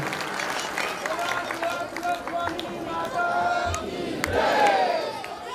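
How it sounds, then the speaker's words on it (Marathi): Audience at a local felicitation event breaking into applause, a broad wash of clapping mixed with crowd noise and voices, swelling louder toward the end. "एकदा टाळ्यांचा गजर बाबेदारांसाठी आशीर्वाद रूपाने करूया."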